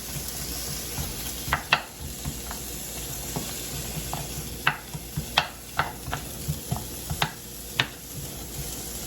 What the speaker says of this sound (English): The pan is hot. I'm adding the Vidalia onion.